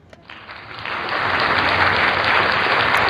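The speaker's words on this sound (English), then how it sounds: "that is the applause that I will give myself" Applause builds quickly from a few claps into a steady, loud wash of clapping from a crowd, sustained to the end.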